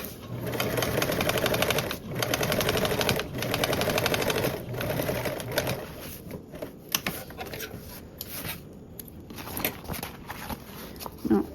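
A sewing machine topstitches a color-blocked stripe panel for a Cascade Duffle bag, running in steady close bursts of rapid needle clatter separated by brief pauses, then slowing to lighter handling and fabric rustle.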